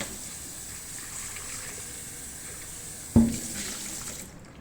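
Tap water runs steadily to rinse soap out of a cooking blender, with a sudden louder splash partway through before the flow tapers off.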